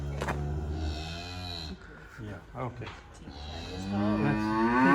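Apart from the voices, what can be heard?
red heifers mooing in Shiloh, Samaria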